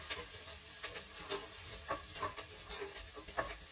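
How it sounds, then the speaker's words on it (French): Ginger and onions sauté in a pan with a soft sizzle, while stirring and scraping put light irregular knocks on top. The frying is fairly faint. "Et je fais revenir le gingembre avec mes oignons."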